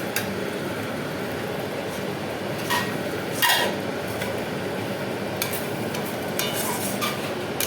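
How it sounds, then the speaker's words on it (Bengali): Chicken and yogurt stirred in a pan for black pepper chicken, a steady soft scraping and light sizzle with a few louder utensil clinks against the pan, close and without talk. "এবার আবার ভালো করে সব কিছু মিশিয়ে নাড়তে থাকবো।"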